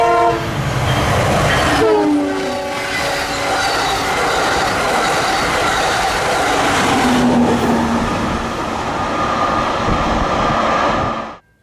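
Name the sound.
Amtrak Blue Water train with two SC-44 locomotives, horn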